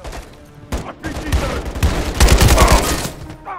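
Sustained turret gunfire in the Call of Duty Modern Warfare 3 campaign, dense and loud rattling bursts that build toward the middle and hold through most of the stretch amid battle noise.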